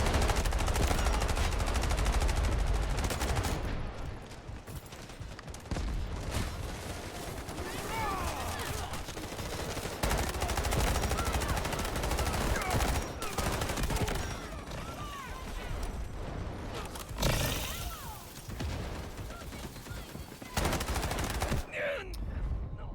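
Bursts of automatic gunfire from the shooter game Delta Force, loud and repeated in rapid volleys across the whole span, with someone talking over the shooting.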